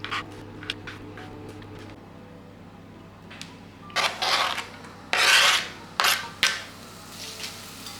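Knife cutting mushrooms into thin slices on a board for a breakfast omelette, with a run of light quick taps followed by several louder scraping, crunchy cuts.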